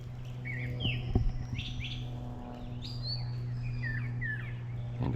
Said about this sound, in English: Oh, that's a parula.